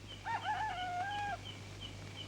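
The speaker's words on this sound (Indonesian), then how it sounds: "Ayam sudah bangun." A rooster crows once, a clear drawn-out cock-a-doodle-doo at moderate distance over a low steady hum, followed by quiet.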